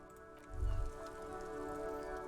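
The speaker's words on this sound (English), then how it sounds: "All around you, rain falls on the great city of Revachol. Rain drips from the eaves and floods the gutters" Steady rain falls over the city of Revachol in the video game Disco Elysium, a soft, even wash of patter under sustained low musical tones, with a brief deeper rumble near the start.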